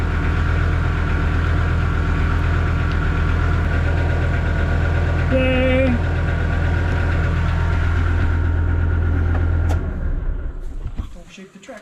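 A Kubota M4900 tractor diesel idles loudly and steadily up close with a deep, even throb, a brief voice calls out midway, and the engine then shuts down and rattles to a stop.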